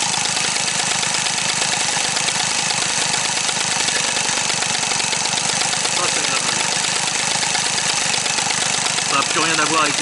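A 39-year-old Peugeot 102 SP moped engine runs after a restart, a loud, rapid, rattling two-stroke putter that is steady and close for the whole ten seconds, with a voice talking faintly over it near the end.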